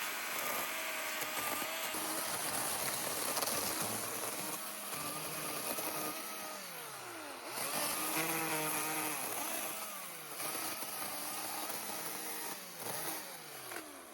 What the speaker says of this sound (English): With the electric chainsaw,